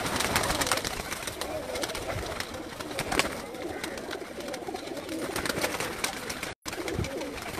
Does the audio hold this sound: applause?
no